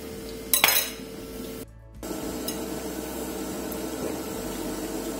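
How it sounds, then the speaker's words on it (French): A spatula scrapes and stirs semolina in a pot as it is poured in for couscous, a few clanking knocks at the start, then a brief gap and steady soft scraping and swishing close by. "Je verse la semoule à l'intérieur et je tourne rapidement pour que ça ne forme pas des grumeaux."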